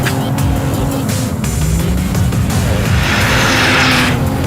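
A 2016 Volvo V60 Polestar flicks into a corner on a winter road, its engine roaring steadily from the cabin as tire and road noise swells into a broad hiss near the end.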